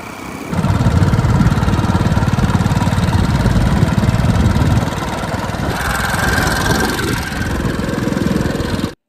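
A motorcycle engine runs on a rural road near Amaravati, a loud, steady, close throbbing drone that starts abruptly, holds, eases slightly in pitch midway, then cuts off at the end.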